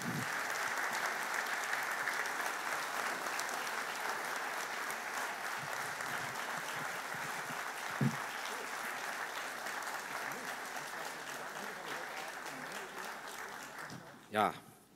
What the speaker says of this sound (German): Und ich bitte um einen ganz großen Applaus, meine Damen und Herren.